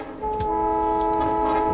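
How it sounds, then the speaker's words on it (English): Trains in the factory-building game Factorio sound a sustained, steady horn tone that begins after a short quiet start and holds loudly to the end, with faint clicks and game noise underneath. "hear lots of honking"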